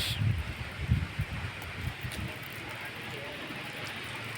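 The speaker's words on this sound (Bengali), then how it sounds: "এই যে বাতাসে দেখছেন কীভাবে বাতাস গাছ নড়তেছে" Strong gusty wind shakes tree leaves into a steady broad rustle, with rumbling buffets against the microphone in the first couple of seconds before settling into a constant roar.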